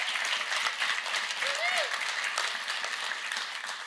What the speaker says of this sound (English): Would you please give our congressional delegations a round of applause?